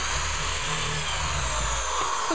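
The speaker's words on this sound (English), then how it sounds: "we want to drill pilot holes for those cabinet screws" A power drill bores pilot holes in a wooden cleat for cabinet screws, a short continuous whirring burst, close and loud, with no talk.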